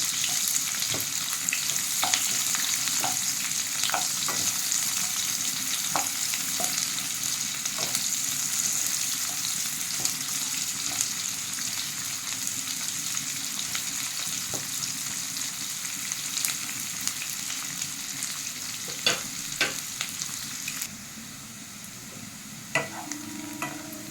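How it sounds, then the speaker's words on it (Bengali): Large-cut onions fry in a pan for prawn pulao, giving a steady, close sizzle throughout with scattered clicks and scrapes from stirring and no talk. "পেঁয়াজটা একটু ভালো করে ভাজতে হবে।"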